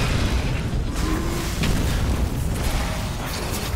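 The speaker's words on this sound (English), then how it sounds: "let's also just throw some nukes at things" Nukes explode in the video game The Riftbreaker as a loud, continuous rumbling roar of blasts layered over one another, filling the whole stretch with no talk.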